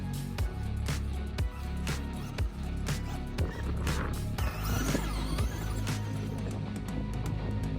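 Traxxas 1/10 Bigfoot RC truck driving and turning on a beach, with a steady motor whine and repeated thumps and bumps over sand, close and continuous with no pauses.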